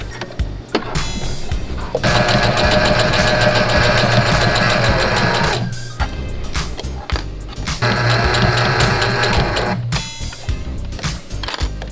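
A sewing machine runs close and loud in long steady bursts of rapid mechanical whirring, stopping briefly between runs, while a sleeve of a thrifted turtleneck is stitched together.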